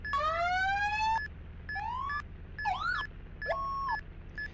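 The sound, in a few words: heavy tanker fire truck siren in Roblox ER:LC video game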